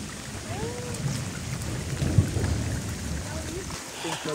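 Steady rain falls hard during a storm on a mountain hiking trail on Mount Ungaran, with deep, low thunder rumbling underneath and a constant wash of heavy rainfall close by.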